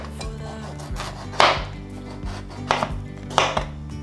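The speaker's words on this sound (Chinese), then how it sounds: "把马铃薯切成粗条状" A knife chops a peeled potato into thick strips on a cutting board, with four or five firm, spaced thuds and cuts close by and no talking.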